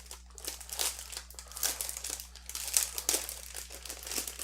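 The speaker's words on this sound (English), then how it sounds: "All this plastic noise." Plastic packaging around a Tezarre TK61 RGB mechanical keyboard crinkles and rustles continuously at close range during unboxing, with no talking.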